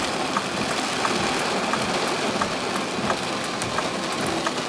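Rain pours down steadily around a ride-hailing car in a flood-prone area, a dense, even hiss with faint patters, heard close and constant without speech.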